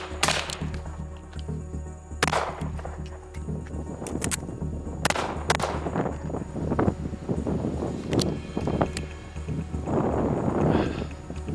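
Rifle shots followed by pistol shots at an outdoor shooting drill, loud sharp cracks spaced in small groups, with wind buffeting the microphone throughout.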